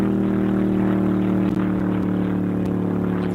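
A vintage eight-cylinder race car makes a speed run on the dry lake at El Mirage. Its engine holds a loud, steady, even drone throughout.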